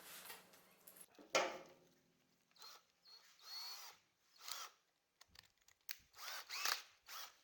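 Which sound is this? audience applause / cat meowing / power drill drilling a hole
power drill drilling a hole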